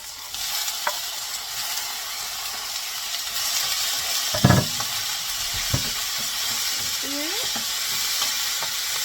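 Tomatoes hit a hot pan for Mexican lentil soup, sizzling steadily with a bright hiss, while a spoon scrapes and clanks through the mix in a few sharp, close knocks.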